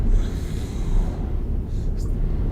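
A voice imitates squeaky, worn-out windshield wipers dragging on glass, a breathy, snorting rasp heard alone over a low steady rumble from a Euro Truck Simulator 2 cab.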